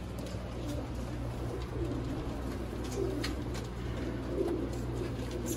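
Feroz puri pigeons coo softly in low, repeated murmurs over a steady background hum, faint and close, with no clear talking.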